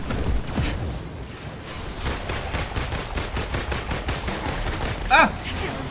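Gunfire in the video game Marvel's Avengers: a steady stream of rapid shots with a sharp louder burst near the end, with game action around it.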